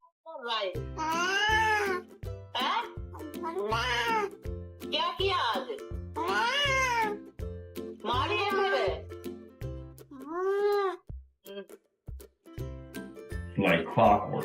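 A kitten meows repeatedly in long, rising and falling cries, close and loud, with barely a pause between calls for the whole stretch.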